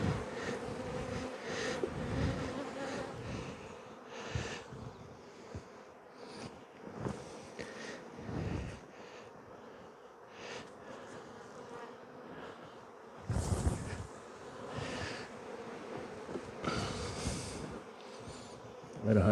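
Honey bees in a congested beehive buzz steadily and densely, with several louder swells as the swarm shifts close by.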